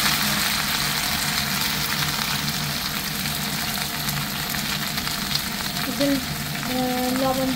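Papaya frying in hot oil in a pan, a dense steady sizzle that stays even throughout, with a faint voice-like murmur near the end.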